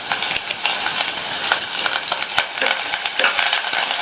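Onion, green chilli, bay leaf and curry leaves sauté in a pressure cooker, making a close, bright sizzle broken by repeated scraping strokes of a spoon stirring the pan.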